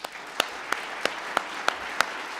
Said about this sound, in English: So a final round of applause for Declan.